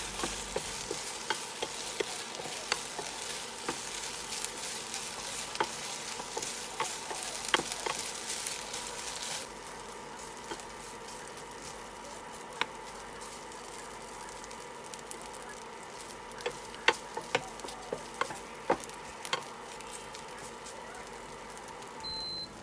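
Chinese sausage is dry-roasted in a pan without oil, a faint continuous crackle with scattered light stirring ticks and scrapes over a long stretch, no talk.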